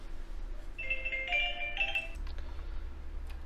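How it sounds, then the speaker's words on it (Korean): A faint electronic phone ring, a brief warbling tone lasting over a second, interrupts a recorded statistics lecture, sounding over a quiet room hum, with no one talking. "전화가 와가지고요"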